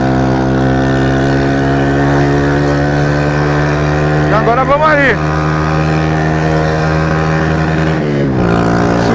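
A Yamaha Factor 150 motorcycle engine hums steadily while riding, revving briefly in the middle and again near the end, with a voice speaking briefly over it.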